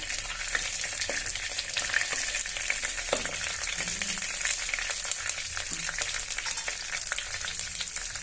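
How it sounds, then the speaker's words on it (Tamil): Mustard seeds, chana dal and cumin frying in hot oil in a pan, a steady crackling sizzle with scattered pops and occasional stirring scrapes, close and continuous with no voices. "கடுகு பொரிய ஸ்டார்ட் ஆனதும் நம்ம எடுத்து வச்சிருக்க கடலைப்பருப்பு சீரகம் ஆட் பண்ணிக்கலாங்க"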